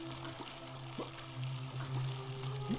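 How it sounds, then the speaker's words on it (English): A fountain in The Forgotten City pours fresh water. It makes a soft, steady trickle and splash under a low ambient hum, quiet and continuous. "A fountain producing fresh water, but where could the water be coming from?"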